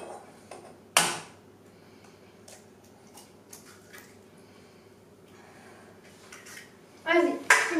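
Spoon or utensil knocking and scraping in a bowl while American cookie dough is mixed, a sharp clack at the start, then faint intermittent scraping and ticks, with a louder clatter near the end and soft voices under it.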